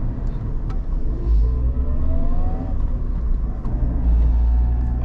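A Maruti Jimny engine holds steady near 2000 RPM in 4x4 low ratio, a continuous loud low rumble with a faint rising whine from inside the cabin.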